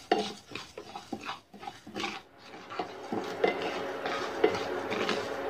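Cumin and fennel seeds dry roast in a pan for a spicy Nagpur-style Saoji chicken curry, heard as close, irregular scraping and rattling of a spoon stirring the seeds against the metal.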